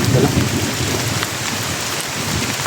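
Heavy rain pouring down in a steady loud roar near a camp, with deep low rumbles that suggest thunder, continuous for the whole stretch with no talk.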